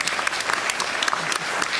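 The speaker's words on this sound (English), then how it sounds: "I think they all deserve a round of applause." A conference audience breaks into a short, dense burst of clapping, steady and fairly loud, with faint voices mixed in.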